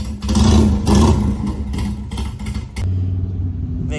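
A repaired motorcycle engine runs and revs loudly up close, with two strong rev surges before it settles to a lower, steady rumbling idle.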